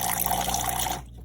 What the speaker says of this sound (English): So you can see it's primed. It has water coming out.